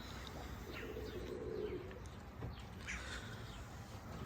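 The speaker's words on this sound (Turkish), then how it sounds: "O kadar çok karga var ki." A flock of crows caws around a pigeon loft during a first training flight, with a few harsh calls and softer cooing over constant outdoor noise, no voices present.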